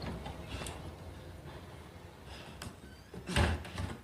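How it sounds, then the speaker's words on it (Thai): Door closing in the video game Resident Evil 4 Remake, a creaking mechanical movement followed by a solid thud near the end, heard alone over a low ambient background. "ปิดประตู"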